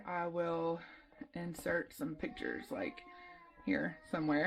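Outside in a backyard, a cat meows pitifully in a few drawn-out cries at the start and end, loud and close-sounding, while someone talks between the meows.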